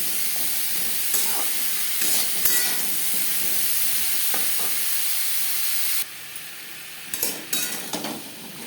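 Papaya pieces with salt and turmeric are stirred in a hot pan, a loud hissing sizzle with intermittent spatula scrapes; the hiss drops down near the end, leaving softer scraping bursts.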